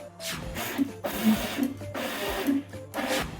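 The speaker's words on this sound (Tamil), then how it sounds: "இது எல்லாத்தையும் ஒன்றா சேர்த்து இப்போ அரைக்க வேண்டியதான்" Mixer grinder blending a homemade chocolate mixture with milk, whirring in loud bursts that pulse on and off several times, close by.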